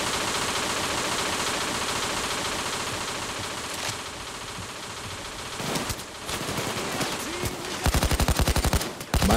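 Rapid bursts of gunfire in the video game Payday 2 crackle over a dense, steady background of in-game noise, growing louder and faster near the end.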